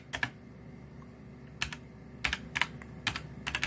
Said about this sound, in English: type in Canon LIDE